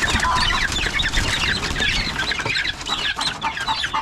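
A flock of chickens clucks and squawks busily at close range during feeding, a dense, continuous chatter of many birds.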